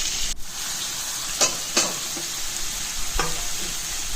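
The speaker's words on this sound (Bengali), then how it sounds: "আমি আর একটা গ্যাসে এদিকে আলাদা করে আলুটাকে ভাজতে বসিয়ে দিলাম" Potatoes fry in a pan on a gas stove with a steady, close sizzle, broken by a few soft utensil taps and clinks.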